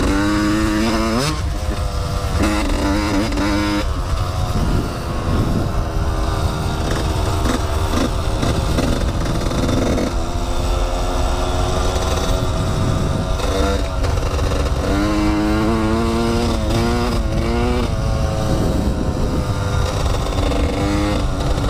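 A dirt bike engine runs loud and close the whole time, its pitch rising and falling as the rider revs and shifts while riding down a road.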